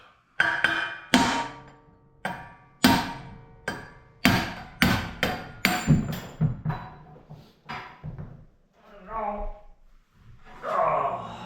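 A sledgehammer drives out the rear bushings of a Miata, giving about a dozen sharp, ringing metal blows in uneven succession. The blows come close up, and a voice speaks briefly toward the end.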